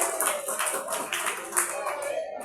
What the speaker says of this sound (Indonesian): Ayo tepuk tangan sekali lagi untuk Mas Bangkang ini.